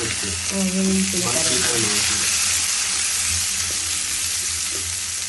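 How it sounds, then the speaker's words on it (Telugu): Onion fries with curry leaves in hot oil for a vegetable curry, giving a loud, continuous close sizzle that runs through the whole clip while a voice talks briefly near the start. "కరివేపాకు కూడా వేసిన తర్వాత బాగా మాడిన తర్వాత ఎర్రగడ్డ వేయించిన తర్వాత"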